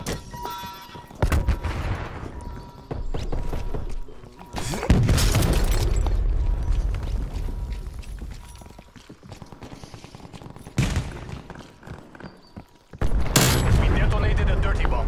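A dirty bomb detonates in a Call of Duty Black Ops Cold War Fireteam match, with deep, loud booms roaring out amid scattered gunfire and crackling debris, a second blast near the end, and game voices speaking in between.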